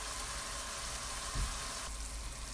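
Cauliflower fries in a pan over medium heat for a tajine, giving a dense, steady sizzle throughout, with a brief soft knock near the middle and the hiss easing slightly toward the end.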